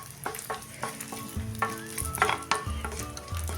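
Raisins frying in leftover ghee in a pan, used while making jaggery and poha laddoos, give a steady close crackle and sizzle broken by repeated scraping stirs and clinks, with no talk.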